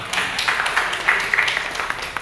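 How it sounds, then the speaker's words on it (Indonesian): Villagers applaud the head of Gunung Putri village in Bogor, a short, moderately loud burst of scattered clapping with a few sharper individual claps rising out of the crowd noise. "tepuk tangan Bapak"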